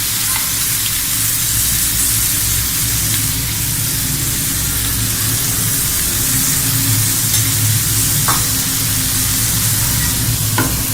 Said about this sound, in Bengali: আমি এটাকে আপেলগুলোকেও গ্রিল করে নিচ্ছি যে জুসিটা অবশিষ্ট থাকে সেই জুসটা আমি আবার এটার উপরে দিয়ে দিচ্ছি